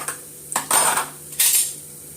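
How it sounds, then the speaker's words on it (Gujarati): Semolina being dry-roasted and stirred in a pan for upma, heard as three bright scraping, clinking strokes of a utensil against the metal pan, close and distinct with quiet gaps between them. "તો સોજી પહેલા શેકી નાખું છું."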